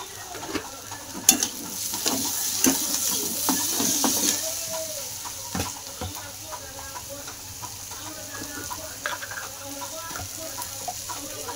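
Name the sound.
food frying in a pan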